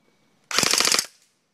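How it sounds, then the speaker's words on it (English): A G&G GR-15 Raider XL airsoft rifle fires a rapid full-auto burst with blowback, about half a second of loud, close, evenly spaced mechanical cracks that stop abruptly. "The first thing I want to go over before we start shooting is the blowback."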